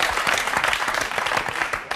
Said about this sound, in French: Vous êtes bon, on peut applaudir un champion du monde sympa.